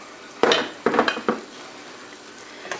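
Olive oil hitting a hot pan on medium-high heat bursts into a loud sizzle in three quick surges, then fades to a soft, steady frying hiss.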